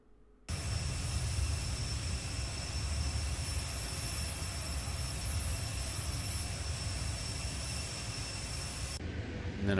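A large presidential plane's jet engines roar in a continuous, steady drone with a high whine over deep rumble, sustained loudly for several seconds before easing slightly near the end.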